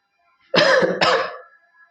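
Two quick throat-clearing coughs in a row, close and fairly loud, followed by a fading tail and then quiet.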